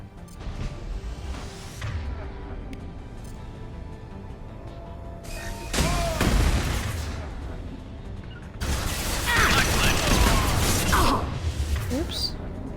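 Explosions and gunfire during combat in the video game Mass Effect 2, with loud crashing blasts and rattling bursts in two heavy waves over a continuous noisy battle backdrop.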